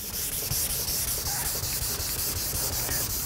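Wet sanding by hand with 1500-grit sandpaper under light pressure gives a steady, close, rhythmic hiss and scrub with quick back-and-forth strokes and no pauses.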